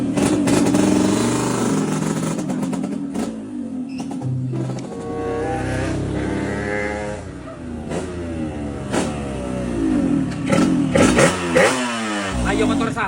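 A motorcycle engine revs close by in uneven bursts, rising and falling with throaty blips and short pauses, while people talk over it.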